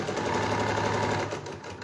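A sewing machine stitches through layered fabric for a cloth mask. It makes a steady, close, fast-running mechanical whir that eases off slightly near the end, and there is no speech.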